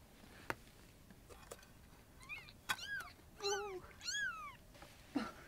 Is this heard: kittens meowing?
yes